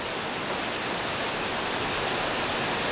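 A waterfall in the Roblox Wild West game roars in a loud, steady broadband rush of falling water, continuous and uninterrupted, with no voices.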